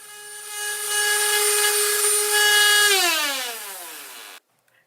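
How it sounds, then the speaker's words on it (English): An electric sander works material clamped on a table, a steady motorized whine with strong harmonic tones that runs near and loud, then winds down in pitch as it is switched off and stops abruptly. "Then sand the spot you want to sand and finish."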